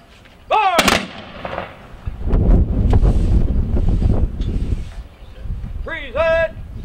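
At an outdoor Veterans Day ceremony in Rouses Point, a rifle team fires sharp, loud volleys on shouted commands, with a voice calling out before the shots and again near the end, and wind buffeting the microphone throughout.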